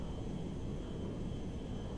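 A low-flying airplane in the video game GTA 5, Russian version, gives a steady, broad engine drone with a faint whine on top, continuous and fairly quiet across the moment.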